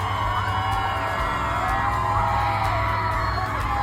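A street crowd cheers and whoops, a dense wash of yells and shouts layered over a low continuous hum, loud and unbroken throughout.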